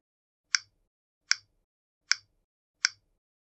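Samsung Galaxy S25 phone charging sound: four brief bright clicking ticks evenly spaced, crisp and close with silence between them.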